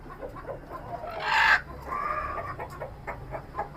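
Chickens clucking and a rooster crowing on a rooftop poultry farm, one loud close squawking call followed by softer scattered clucks, with no talk.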